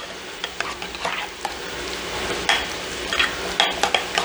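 A spoon works through lasagna filling with granulated garlic and Italian seasoning, making soft, close scraping and stirring sounds in irregular bursts over a light background hiss.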